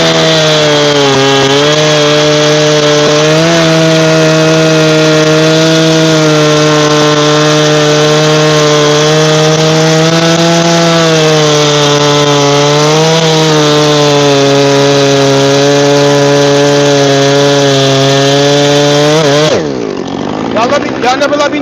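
A Husqvarna chainsaw cutting logs outdoors runs loud and steady for about twenty seconds, its engine pitch wavering slightly under load, then drops off sharply as the throttle releases near the end.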